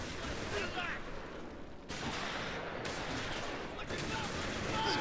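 A captured MG42 machine gun firing in a Company of Heroes style real-time strategy battle, dense rattling bursts and continuous gunfire heard at a distance amid the din of combat.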